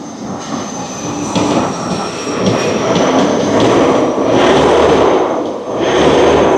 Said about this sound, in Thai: สตาร์ท เครื่องยนต์ติดง่ายนะ เดี๋ยวจะมีสั่นนิดนึง